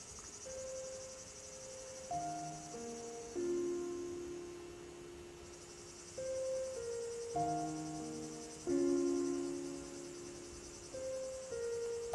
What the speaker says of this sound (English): listening to the frogs and the crickets.